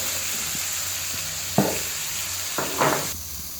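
Broccoli, carrots and green beans frying in oil in a pan, a steady sizzle running throughout, with a few louder bursts of hiss and stirring clatter near the middle and end; no talking.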